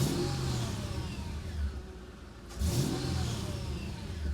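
A Mercedes E55 AMG fitted with a custom intake revs twice, two quick blips of rising engine note over a low idle, close and fairly quiet.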